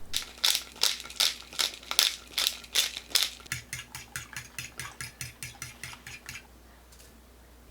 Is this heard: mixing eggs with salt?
yes